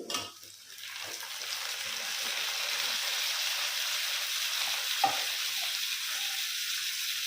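Tomatoes drop into a frying mushroom biryani masala, setting off a steady, moderately loud sizzle with a brief stirring clatter partway through.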